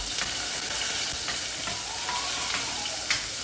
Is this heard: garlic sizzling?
yes